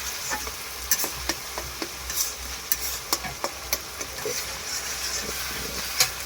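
Chicken curry masala with tomatoes cooks in a pan in a village kitchen, sizzling softly while a spoon scrapes and stirs in a string of sharp, irregular clacks.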